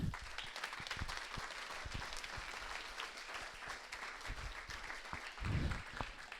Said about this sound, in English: they deserve a big applause from you